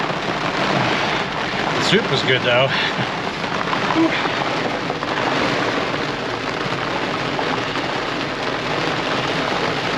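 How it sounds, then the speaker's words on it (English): Steady heavy rain pours throughout during a thunderstorm, a dense continuous hiss, with a voice speaking briefly near the start. "Wow, that storm came on strong."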